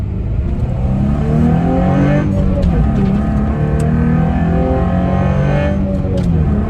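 A steady Nissan VQ V6 engine drone in a second-generation Nissan Frontier runs throughout with low harmonic tones rising and falling slightly, close and loud, sounding like an idling and lightly revved engine.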